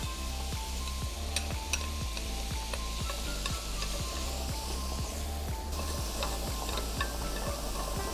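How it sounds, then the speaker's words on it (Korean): Shrimp and button mushrooms sautéing in butter in a stainless steel pan, a steady close sizzle punctuated by regular, rhythmic scrapes and taps of a utensil stirring, about two per second. "새우가 어느 정도 익은 다음에 양송이를 넣어서 같이 볶아주도록 하겠습니다"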